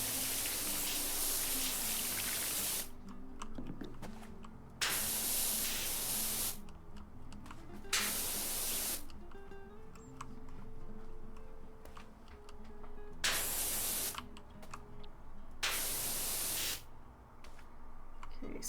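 In the video game PowerWash Simulator, a pressure washer blasts in about five loud hissing bursts of a second or two each, separated by quieter gaps.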